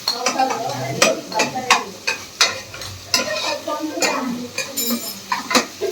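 Food fries in a pan until golden brown, with a steady sizzle broken by repeated sharp clanks of a spoon stirring against the metal. Faint voices can be heard in the background.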